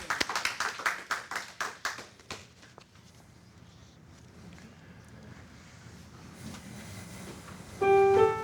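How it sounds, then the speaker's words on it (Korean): A church congregation claps in a steady rhythm for about two seconds, then the clapping fades into quiet room noise, followed by a faint tone at the end. "우리 동행하시는 하나님께 영광을 박수로 올려드렸습니다"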